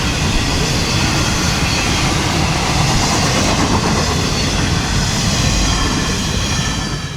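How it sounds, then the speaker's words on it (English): A Florida East Coast Railway intermodal freight train passes close by on a straightaway, with a loud, continuous roaring rumble and steady clattering wheels throughout. "I used to love watching the nightly intermodal race along the straightaway"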